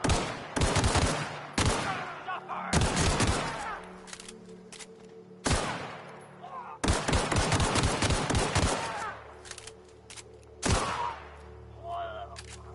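Loud gunfire in The Outer Worlds comes in several sharp rapid bursts, some like machine-gun fusillades and others short volleys, each separated by brief quieter gaps.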